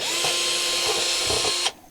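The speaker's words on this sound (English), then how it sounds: "before we drill into our plastic, I'm going to do a test hole" Power drill boring a test hole in cardboard: one loud, steady whine with a grinding rasp for under two seconds, cutting off abruptly.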